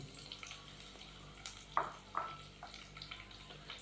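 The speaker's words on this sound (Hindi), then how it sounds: "तो लहसुन को हमने हल्का सा फ्राई कर लिया है।" Garlic sizzles softly in a pan with faint crackles and a few scraping stirs, quiet and close, with no talking.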